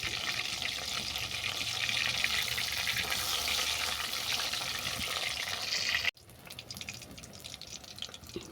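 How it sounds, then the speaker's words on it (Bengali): Battered lotte (Bombay duck) fish frying in hot oil, a continuous close hiss and crackle that suddenly drops to a quieter sizzle near the end, with no voices. "এবার এই ব্যাটারে ডুবিয়ে আমি তেলে ভেজে নেব।"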